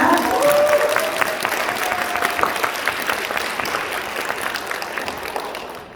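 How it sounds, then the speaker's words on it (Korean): Audience applause fills a business gathering as a presenter walks up to the stage: a dense, steady crackle of many hands clapping, loud and close, tapering off slightly at the end. "박수 부탁드리겠습니다"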